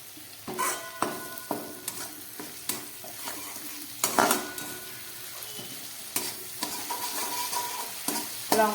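Green chillies, cumin and salt sautéing in a pan for paneer malaikari, a soft steady sizzle broken by repeated sharp scrapes and clanks of a spatula stirring against the pan at close range.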